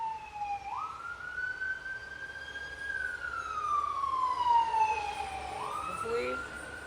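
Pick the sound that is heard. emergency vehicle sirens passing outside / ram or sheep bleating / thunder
emergency vehicle sirens passing outside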